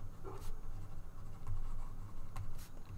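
Pen scratching steadily on paper while an answer to a maths exam question is written by hand, close and continuous, with a few brief louder strokes and no speech.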